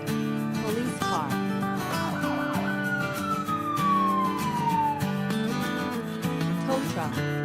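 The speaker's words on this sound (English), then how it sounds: "Police car." A police car siren from a children's vehicle-sound game sweeps in a long falling tone and repeats steadily over a busy backing track, loud and continuous throughout.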